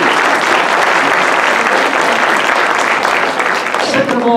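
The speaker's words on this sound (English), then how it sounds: "let's give them a big round of applause" Crowd applause for firefighters, paramedics and police officers at the 2018 Rio Rancho mayoral forum: steady, loud clapping from a packed room throughout, with a voice emerging faintly toward the end.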